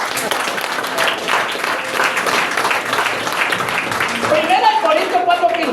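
A church congregation applauds during a sermon, a broad wash of many hands clapping at moderate volume, with a voice speaking over it toward the end.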